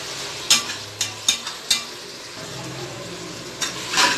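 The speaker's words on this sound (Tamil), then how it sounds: "தக்காளி போட்டு நல்லா தக்காளி மசிஞ்சு வெந்து வர அளவுக்கு நல்லா நம்ம வதக்கிடலாம்." Tomatoes sauté in a pot for chicken biryani: a low sizzle under sharp, spaced spatula scrapes and taps against the pot, about five in quick succession and then a couple more, close by.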